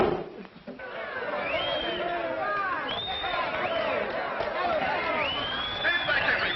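A crowd gathering around a landed plane in a 1937 film, heard as close, busy chatter from many voices, with shouts and calls rising over a steady hubbub.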